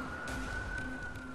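An ambulance siren wails steadily in a brief, sustained tone, loud and close, over a low rumble of traffic.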